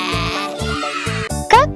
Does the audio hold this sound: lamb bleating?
yes